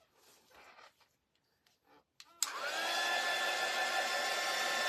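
A hair dryer switches on after a couple of seconds of faint handling noises and then blows steadily and loudly, drying a coat of paint or glue on a craft kit project.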